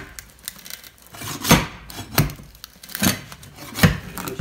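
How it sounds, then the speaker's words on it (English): A crowbar pries stripped screws out of the wooden floor of a school bus being converted, producing four sharp cracking, splintering pops spaced about a second apart over faint rustling and scraping. "we're just using a crowbar and prying them right up out of the wood."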